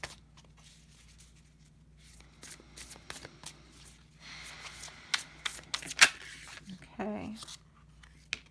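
A Muse Tarot deck is shuffled by hand in a quiet room, with soft riffling and papery slides building into a flurry of crisp card snaps, while a person talks quietly through part of it.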